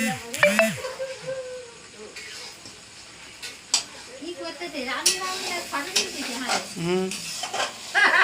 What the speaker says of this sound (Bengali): আমার বউ আবার উনুনে রান্না করছে।